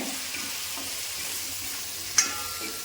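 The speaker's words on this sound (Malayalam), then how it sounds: "ഒരു അര ടീസ്പൂൺ മഞ്ഞൾപ്പൊടി ഒരു ടേബിൾ സ്പൂൺ മുളക് പൊടി അത് ഇതിനകത്ത് ഇവിടെ മൂക്കട്ടെ" Turmeric and chilli powder roasting in oil in a pan for a raw mango curry, a soft, even sizzle close by with a single sharp clink of a utensil near the end.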